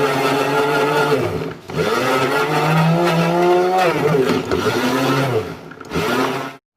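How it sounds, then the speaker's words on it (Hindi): A kitchen grinder whirs loudly as it minces chicken for pulao, the motor pitch sagging and recovering in repeated surges as the load shifts, with brief pauses between bursts. "अब चिकन को पीस लेंगे।"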